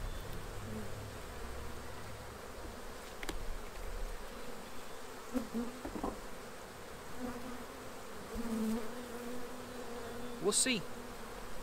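Honeybees buzz around an open hive during a spring inspection, a steady low swarm hum with individual bees droning close past, and a person speaks briefly.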